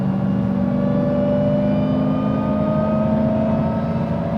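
A supercharged Hellcat engine revs with a sustained, whining drone and a steadily rising pitch, loud and close throughout.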